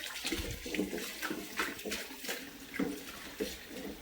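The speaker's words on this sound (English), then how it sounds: "So I'm gonna rinse this off real quick." A sourdough bowl rinsed under a running kitchen tap: close, fairly soft splashing water, uneven and sloshing throughout the few seconds as the bowl is turned under the stream.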